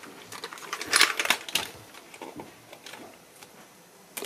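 A computer keyboard in perfect condition being typed on: close, irregular bursts of sharp key clicks, busiest early and thinning out toward the end.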